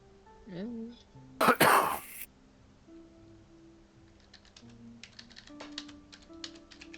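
Faint, irregular clicks of typing on a computer keyboard come in scattered bursts after a loud cough and throat clearing, with quiet room background in between.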